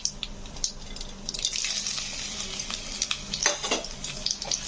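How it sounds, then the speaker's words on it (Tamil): Mustard seeds, chana dal, urad dal and dried red chilies fry in hot oil, giving soft crackling pops and light sizzling bursts, close and fairly quiet, with no talking. "கடுகு பொரிஞ்ச உடனே நம்ம எடுத்து வச்சிருக்க கடலைப்பருப்பு, உளுத்தம் பருப்பு, காஞ்ச மிளகாய் 3மே ஆட் பண்ணிக்கலாம்"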